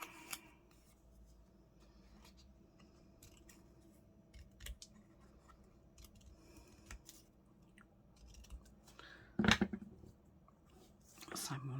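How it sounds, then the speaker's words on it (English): Scissors snip out paper pieces for garden journal cards, a few quiet, scattered cuts and rustles over about twelve seconds, with one louder crunchy snip near the end. "I'm going to cut these out."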